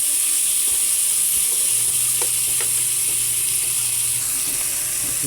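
Garlic and onion fry in a pan for miso sinigang, giving a steady, close hiss of sizzling oil with occasional scraping stirs and no talk.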